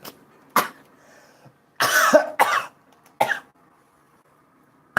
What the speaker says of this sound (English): when I cough really hard